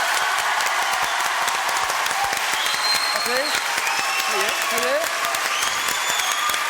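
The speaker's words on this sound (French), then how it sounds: "Applaudissements pour Maître Zand." A studio audience on a French TV show applauds steadily, a bright dense clatter of clapping that carries on while people talk over it.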